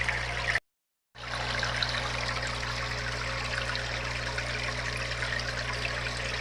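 Water from a high-flow aquarium filter outflow trickles and splashes steadily into a 55-gallon cichlid tank, a constant close hiss of running water with a brief gap of silence near the start.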